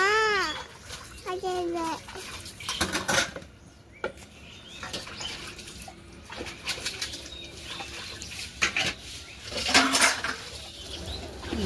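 Dishes and pots being washed by hand, with scattered clinks and clatters of utensils against each other and running water, close by, under someone talking and a few birds calling in the background.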